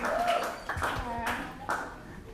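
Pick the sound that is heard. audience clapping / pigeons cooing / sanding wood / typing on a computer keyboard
audience clapping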